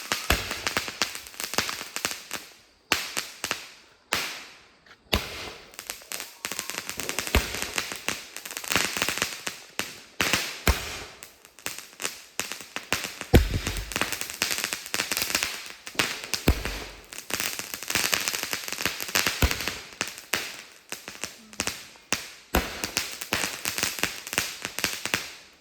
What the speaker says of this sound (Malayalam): ഞങ്ങള് പടക്കെല്ലാം പൊട്ടിച്ചു കഴിഞ്ഞു